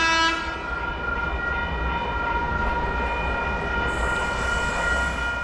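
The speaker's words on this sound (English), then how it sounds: "signal your intention to board by raising your hand as the train approaches, which the driver will usually acknowledge with a short whistle" Double-decker passenger train arriving at Wondabyne request stop in a national park, rumbling steadily and sounding a sustained horn blast throughout, loud and near, with no voices.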